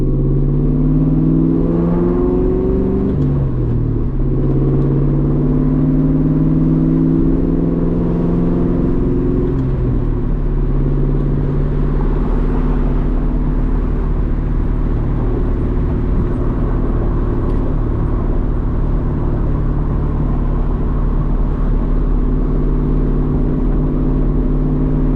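A straight-piped 2003 Mustang GT engine drones loud and close while driving, its pitch climbing and dropping through gear changes before settling into a steady rumbling cruise.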